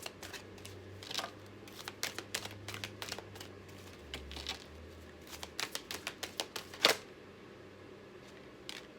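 Tarot cards drawn from a deck, heard as a string of short, dry clicks and soft snaps close by in a quiet room, with a low hum underneath and one louder tap near the end.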